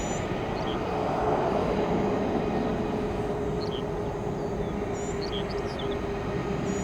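An airliner takes off from runway 18 left at Orlando, its jet engines making a steady, broad roar that swells slightly and then holds through the whole stretch, with faint chirps of birds above it.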